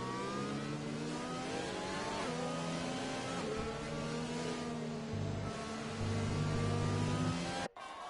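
Formula 2 race cars in a racing video game at the Great Britain circuit, engines droning and revving continuously with rising and falling pitch as the pack weaves behind a safety car, loud and steady.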